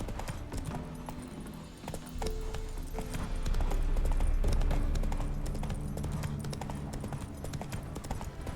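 Hooves clop in a steady galloping rhythm as Geralt's horse Roach runs in The Witcher 3, with faint game ambience around it.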